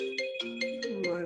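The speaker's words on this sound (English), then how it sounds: "Phone has gone off here." A mobile phone ringtone goes off mid-conversation during a recorded discussion, playing a loud, close melodic tone pattern with bright bursts repeating roughly every 0.4 seconds and a sustained lower tone underneath.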